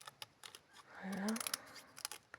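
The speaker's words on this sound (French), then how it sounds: "Petit ciseau à dentelle" Small lace scissors cut material in quick, close, quiet snips, with a brief soft sweep mid-clip and clusters of sharp clicks from the blades.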